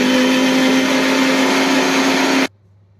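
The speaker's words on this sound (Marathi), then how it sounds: "आणि हे सगळं मिक्सरमध्ये बारीक करून घेऊया." A mixer grinder grinds tomatoes, curry leaves, chilli and garlic for palak paratha, a loud steady motor whir with a constant hum that runs for about two and a half seconds and then cuts off abruptly.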